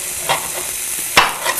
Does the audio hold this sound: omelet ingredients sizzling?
yes